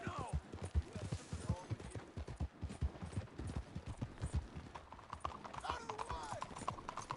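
Horse hooves clip-clopping at a steady gallop in the Red Dead Redemption 2 video game, continuous rhythmic thuds with brief gunfire bursts and a person talking over them.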